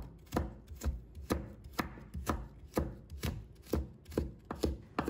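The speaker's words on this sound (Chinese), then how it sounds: "再准备半条胡萝卜，把它切成厚片，再改刀切成丝" A knife chops half a carrot into thin strips on a cutting board, about ten crisp, evenly paced strikes, close and clear, with no talking, while vegetables are prepped for stir-fried green beans.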